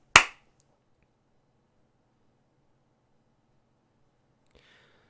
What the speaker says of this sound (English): if I stop talking, I'm going to clap